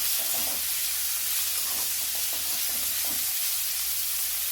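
Beetroot stir-frying with turmeric in a pan, producing a continuous soft sizzling hiss with faint stirring beneath it and no voices.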